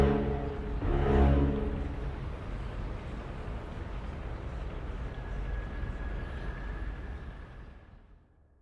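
An engine runs in the video game Dreamfall Chapters: a deep, humming drone swells early, holds steady with a thin whine appearing later, then fades away at the end.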